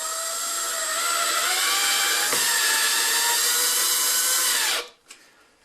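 A power drill drives a self-drilling screw into a round vent hood duct being fitted through a wall, a loud steady whine held for nearly five seconds before cutting off abruptly, followed by a brief small knock.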